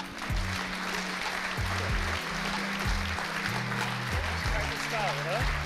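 An audience claps at an evening innovation event on a stage in Lohne, a broad steady wash of hands throughout, overlaid by rhythmic low tones of music, with no clear speech.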